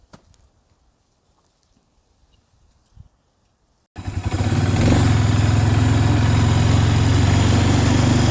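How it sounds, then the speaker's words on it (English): An ATV engine starts after a few seconds of near silence and settles into a loud, steady, close running rumble that continues to the end. "Have to get out the get the ATV out and go for a little drive here,"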